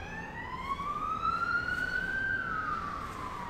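A single emergency vehicle siren wailing in a slow rising-then-falling sweep, moderately distant and faint over a low traffic rumble, with no voices present.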